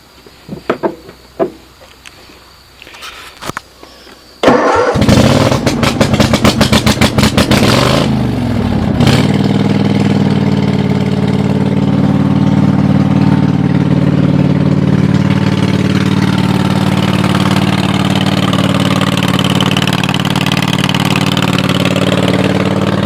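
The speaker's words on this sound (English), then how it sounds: "Let's see if she'll fire up." A 2007 Cub Cadet RZT 50 zero-turn mower with a Kawasaki V-twin engine cranks with rapid starter clatter, fires up, then settles into a loud, steady idle, close by with no talk.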